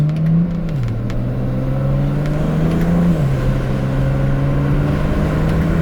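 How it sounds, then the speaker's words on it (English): A BMW 335i's engine drones steadily from inside the cabin, its pitch dropping noticeably twice as the tuned automatic transmission shifts up through the gears. "I put the windows on so we can hear the shifts"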